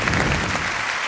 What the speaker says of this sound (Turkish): Alkışlar sahneye gelsin.